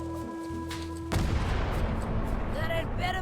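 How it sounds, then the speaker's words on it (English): A cannon fires in the cartoon pirate adventure game Return to Monkey Island, one sudden loud boom breaking a quiet musical backdrop and leaving a long rumbling tail with faint tones above. "Ready for cannon firing."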